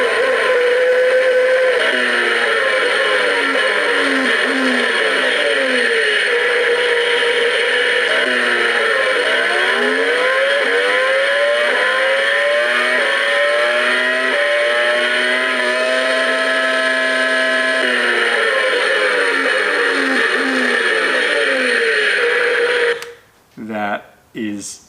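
A Formula One slot car alarm clock plays a loud, continuous racing engine sound with rising and falling revs and gear changes, like cars passing at speed, running steadily before cutting out abruptly near the end.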